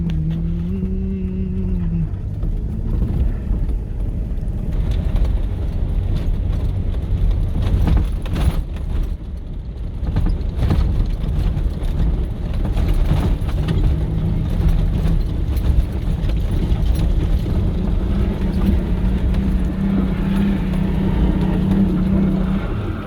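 A car in two-wheel drive labouring up a steep slope off-road, its engine droning loud and steady throughout with rough rumbling and shifting tone, heard close from inside with no talk over it.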